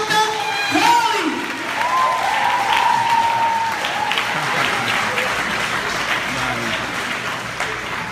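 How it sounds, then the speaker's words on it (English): An audience claps loudly to welcome a speaker at an event, a dense round of applause with a few whoops, steady at first and slowly thinning toward the end. "put your hands together for Medical Doctor Hurley."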